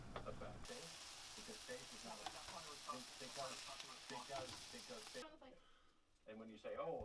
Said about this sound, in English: we cook up some onions until they caramelize, put some burgers on the pan